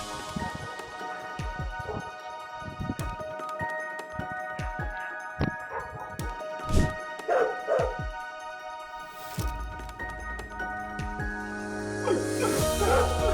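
Village dogs panic as wild elephants move in, letting out scattered yelps, whimpers and sharp barks at irregular intervals over a background hum, moderately close, with no speech.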